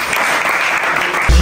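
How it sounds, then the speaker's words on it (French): Audience applause at a Pointe-Noire, Congo show, loud and dense clapping across the whole short stretch, with a thump at the very end. "Applaudissez pour mon public."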